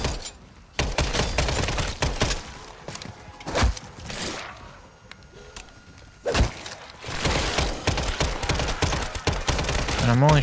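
Rapid bursts of gunfire in the video game Modern Warfare Zombies, with clusters of sharp shots through the clip and heavier volleys near the end, mixed with game noise.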